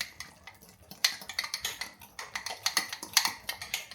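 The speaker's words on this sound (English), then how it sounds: "So I just stir that up." A spoon stirring paste in a pot on a wood-fired Metters stove, giving rapid irregular scraping and clinking taps, close and moderately loud with no talk.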